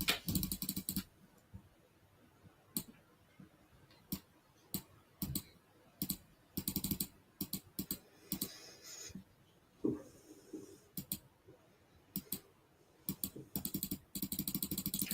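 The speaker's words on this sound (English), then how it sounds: "Sorry about all the clicking." Close computer keyboard typing and clicking, coming in quick clustered bursts separated by short pauses, steady and dry with no voices over it.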